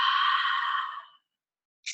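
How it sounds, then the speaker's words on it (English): A single loud, breathy exhale forced through a constricted throat, giving a turbulent, hissing rush of air that holds steady for about a second, then fades to silence before a brief second puff at the end. "Constriction in the back of the throat creates turbulence in the airflow,"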